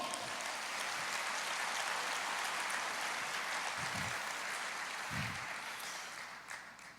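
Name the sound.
church congregation applauding the Lord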